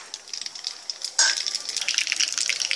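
Mustard seeds, cumin and fenugreek hit hot sesame oil for a sambar tempering, bursting into a sudden loud sizzle with rapid crackling pops that carry on steadily after the quieter spitting before.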